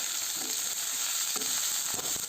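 Thin-cut potato sticks frying in lightly heated oil seasoned with five-spice, giving a steady sizzle with a few soft stirring scrapes, close and fairly quiet, no talk.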